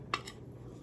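A metal spoon clinks once against a bowl, a single bright tap with a faint follow-up, while potato chops are coated in gram-flour batter. It is quiet and close.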